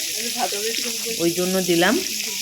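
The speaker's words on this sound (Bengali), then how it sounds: "এবারে মাছগুলো উল্টে পাল্টে খুব সুন্দর করে ভেজে নেব।" Small fresh puti fish sizzle steadily in hot oil in a home kitchen, spiced with green chilli. The crackling hiss is close and continuous, and a voice talks over it throughout.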